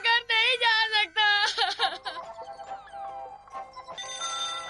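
Cartoon telephone in Doraemon ringing in bright repeated trilling bursts, loud and close, then quieter tones with a whimpering voice before the ringing resumes.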